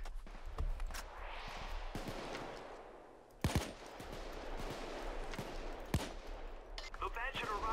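Bursts of gunfire from the video game Payday 2, several sharp shots with one loud crack near the middle, over steady game noise and occasional voices.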